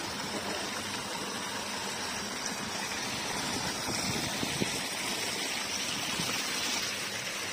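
Water gushing steadily from a solar-powered tubewell pump in Pakistan, running on a cloudy day; a continuous broadband rush with a low mechanical undertone, close and unbroken throughout with no talk.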